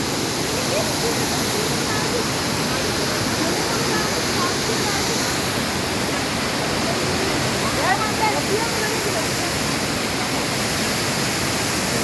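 Tomara waterfall in Giresun's Şiran district, rushing water pouring steadily as a dense, constant roar close by, unbroken for the whole stretch with no other sounds rising above it.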